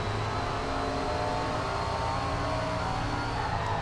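A Super Late Model race car engine drones steadily at Stafford in SRX: The Game, a constant loud, even hum with no pauses and no talk.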